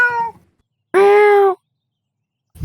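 A house cat meows indoors, a clear drawn-out meow standing alone after a brief earlier cry, with near-silence between and a short noisy thump at the end.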